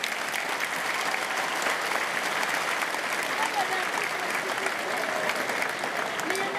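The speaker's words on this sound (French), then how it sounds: "On peut les applaudir." Sustained, dense applause from a large audience at an international circus artists' festival awards ceremony in Saint-Paul, steady and full throughout with no break.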